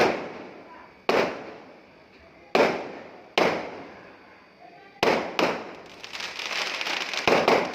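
Loud firecrackers burst one after another at irregular intervals, each sharp bang ringing out and fading, ending in a rapid crackling volley.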